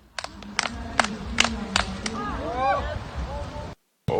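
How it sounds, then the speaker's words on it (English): A Lithuanian crowd at a hammer throw competition claps slowly in unison, sharp claps spaced about every half second that build in tempo, with crowd murmur and whistling cheers underneath, ending with a brief silence. "The enthusiastic slow clap from the Lithuanian crowd."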